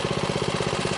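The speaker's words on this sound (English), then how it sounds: "I'm just using the tractor to pull the sled around" A tractor engine pulling a sled around a disc golf course chugs with a steady, rapid rhythmic throb, loud and close with no talk.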